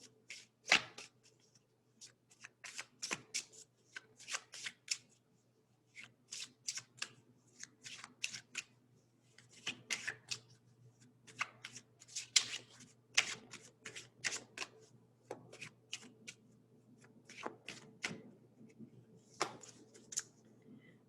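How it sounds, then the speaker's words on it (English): Repeated soft bursts of Lenormand cards being shuffled by hand, a steady series of quick riffles and slides with short pauses, quiet and close. "let's go ahead and shuffle."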